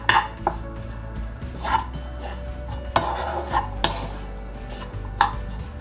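A spoon stirs cheese into a fried filling with pine nuts for stuffing chicken breasts, close metallic scrapes and clinks against a bowl at an irregular pace, alone without talk.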